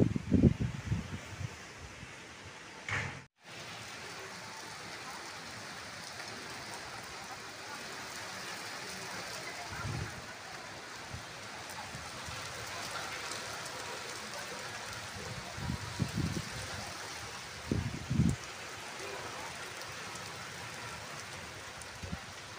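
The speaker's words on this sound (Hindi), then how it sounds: "मौसम तो काफ़ी सुहाना हो जाता है जब बारिश आती है।" Steady rain falls outdoors as a continuous broadband hiss throughout, with occasional louder bumps and rustles nearby.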